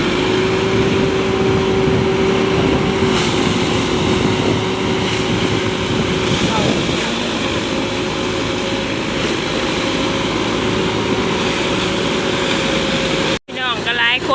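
A tractor engine runs steadily and loudly close by, a constant mechanical drone that fills the whole clip, with wind buffeting the microphone. It cuts off abruptly for a moment near the end.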